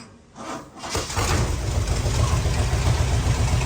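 A bus engine cranks and catches after a brief quiet moment, then settles into a loud, steady, rumbling idle that continues close by to the end.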